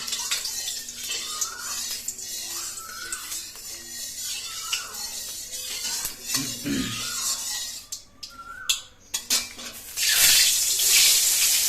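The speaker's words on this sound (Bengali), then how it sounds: "এখন তেল ছিটে আসছে" Hot oil heating for fried eggplant sizzles and spatters in a pan, a steady close hiss broken by crackling pops, swelling into a louder, harsher surge near the end.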